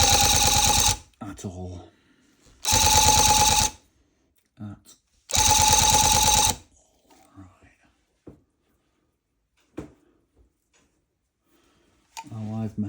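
A handheld tufting gun pushing wool, running on its lowest variable-speed setting, fires in three loud mechanical bursts of about a second each, separated by pauses with quiet talk and small clicks.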